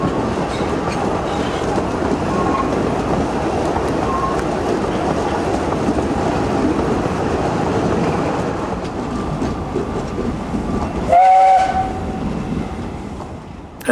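A narrow gauge steam train hauling wagons carrying riders rumbles past at close range, with steady wheel clatter and a brief high whistle near the end.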